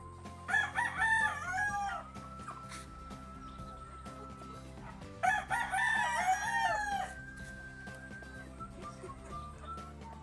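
Gamefowl chickens loose in a scratch pen, with two loud rooster crows close by, one near the start and one midway, between softer clucking and farmyard background.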